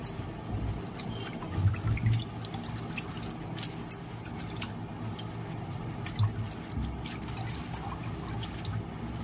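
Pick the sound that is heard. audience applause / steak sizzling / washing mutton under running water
washing mutton under running water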